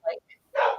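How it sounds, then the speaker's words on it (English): An Alaskan Husky kept as an outdoor dog barks twice from a short distance, a brief yap then a longer, fuller bark, with a faint chirp between them. "Ugh, that dog is driving me crazy. Can you hear it barking?"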